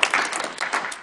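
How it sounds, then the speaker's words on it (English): Audience applause at an indoor talk on hydropower, a short burst of many hands clapping close and steady for about a second. "Can I get another round of applause for our incredible speakers?"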